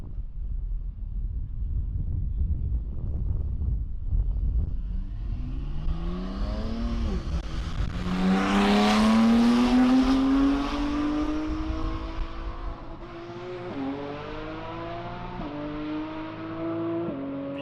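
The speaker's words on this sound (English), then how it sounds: "GTR coming up." A Nissan GT-R race car launches down a drag strip, its engine climbing through rising revs with distinct gear shifts and roaring loud as it passes, then continuing to pull away with wind buffeting the microphone.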